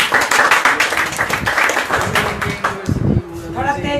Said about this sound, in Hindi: वाह, तालियां बजानी चाहिए।